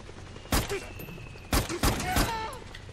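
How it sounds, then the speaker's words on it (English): Sharp gunshots ring out in Metal Gear Solid 4, about four loud, close cracks spread across a few seconds, the last three coming in quicker succession. "I'm gonna shoot this guy."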